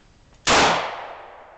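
A single loud, close gunshot cracks out from a handgun fired by a beginner, followed by a long decaying echo, with a quiet lead-in and no talking.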